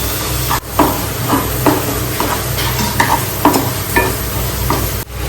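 Spoon stirring spices and mashed potato in a hot pan for mini samosa filling, with repeated scraping strokes over a steady background sizzle, close and fairly loud, no talking.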